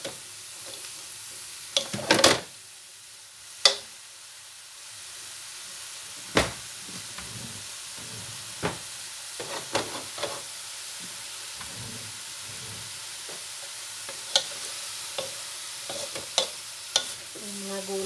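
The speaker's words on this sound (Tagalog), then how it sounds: "Haluin natin hanggang maluto." Boko pansit noodles stirred in a pan while cooking, with soft sizzling and frying hiss under intermittent sharp scrapes and clinks of the utensil against the pan, no talking.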